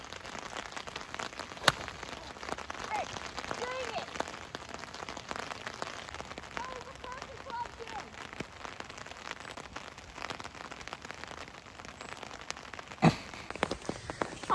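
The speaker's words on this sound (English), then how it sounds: "And the rain has continued to get harder." Heavy rain pours steadily onto a golf course during a storm, a dense continuous hiss of drops striking ground and gear, close and fairly even with a few sharper taps near the end.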